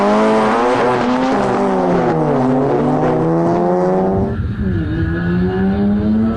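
Two race cars drag racing against each other, engines roaring loud and close as they rev up through rising gear pulls, then one note drops sharply as the other continues at a steady high drone.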